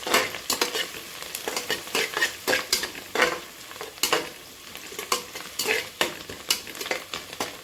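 Coriander, mint and two split green chillies drop into a hot pan and fry, with repeated stirring scrapes and sizzling bursts in an uneven rhythm while cooking coconut milk rice, close and moderately loud, no talking.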